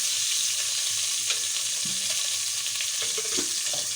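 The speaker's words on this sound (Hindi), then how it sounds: "ये मैं 1 कप जो है तेल डाल रही हूँ" A cup of oil sizzles and fries in a pan for pav bhaji, a steady loud hiss with occasional small crackles and clinks, close up and without talking.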